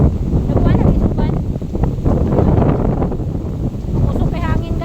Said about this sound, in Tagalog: Grabe, nakusog ang hangin.